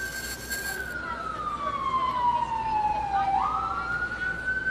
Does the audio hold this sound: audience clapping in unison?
no